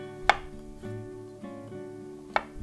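A knife cuts thin slices of king oyster mushroom on a board, giving two crisp, separate taps a couple of seconds apart over a quiet, steady background hum.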